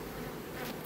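Honey bees buzzing in a steady, close swarm drone, brief and fairly quiet.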